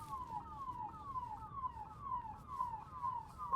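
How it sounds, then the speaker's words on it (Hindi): An ambulance siren wails steadily as it passes along a road, its repeating rising-and-falling tone carrying over a low rumble of traffic, with no talking. "एम्बुलेंस जा रही है भाई"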